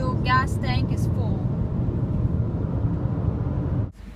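Car cruising on a long highway, a steady low road and engine rumble inside the cabin, a person speaking briefly at the start, then the noise cuts away near the end.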